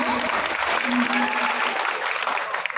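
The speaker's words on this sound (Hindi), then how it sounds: "जवाब तालियों में बताओ भैया" An audience breaks into applause at a live gathering, a dense patter of clapping with a faint tonal hum and murmur of voices underneath, fading slightly toward the end.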